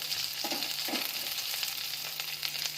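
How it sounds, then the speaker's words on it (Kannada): Coriander, curry leaves, garlic and dried red chillies fry in a pan, giving a steady close sizzle with a few soft spoon scrapes early on, no voices. "ಇದನ್ನ ಇವಾಗ ಚೆನ್ನಾಗಿ ಫ್ರೈ ಮಾಡ್ಕೊಳ್ಳೋಣ"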